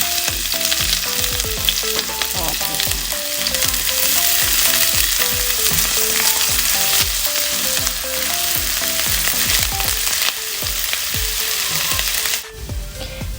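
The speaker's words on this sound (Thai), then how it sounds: "หลังจากนั้นก็ใส่ตะไคร้ลงไป" Lemongrass sizzling and frying in hot oil in a pan, a loud steady crackle lasting throughout with occasional stirring scrapes, no voices.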